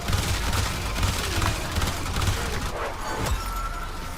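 Rapid fire from the Hema weapon in the Warframe video game, a dense run of repeated shots layered with bursts and impact effects, loud and continuous.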